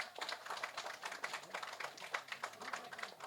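Audience applause at a Tamil film audio launch for director CM Vijay, a steady stream of dense overlapping claps filling the room for several seconds with some voices mixed in.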